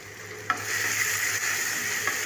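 Onions and freshly added tomato sauté in a pan, a steady close sizzle with a sharp clack of a utensil near the start and another near the end.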